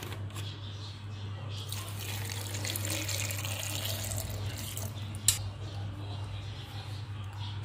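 Water pours steadily into a container for strawberry juice, a soft continuous splashing over a low electrical hum, with a small clink partway through.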